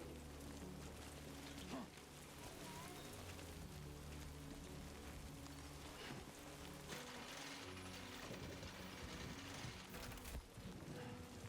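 Rain patters steadily in the Death Stranding 2 game world, a soft continuous hiss running the whole time under a low rumble, with occasional faint mechanical clicks.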